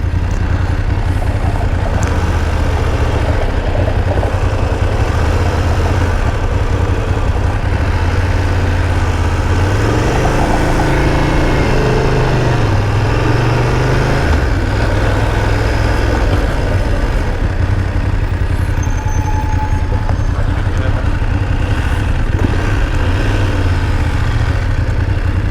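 A motorcycle rides through San Francisco streets with a loud, steady engine drone and constant wind rush. The engine pitch swells and shifts midway as the bike accelerates and changes gear.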